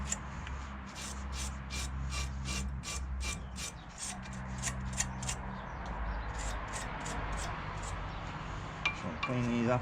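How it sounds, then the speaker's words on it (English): Wire brush scrubbing stainless steel brake pad shim clips from a Peugeot Expert in a workshop, a quiet run of quick scratchy strokes, rhythmic at first and then rougher, over a low steady hum. "these could do a bit of a wire brush"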